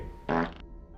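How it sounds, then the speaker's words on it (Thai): A cartoonish fart sound effect blurts out once, a short loud buzzy burst of about a third of a second that fades into quiet background hum. "เมื่อกลั้นเอาไว้มากๆลมที่อยู่ในท้องก็เริ่มจะหาทางออก และก็ไหลออกไปทางรูก้น หรือที่เรียกกันว่า ลมตดนั่นเอง"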